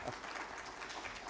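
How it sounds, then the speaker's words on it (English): Brief, moderately faint applause from an audience at a formal inaugural speech, a steady patter of clapping heard alone. "I think that deserves a clap, actually."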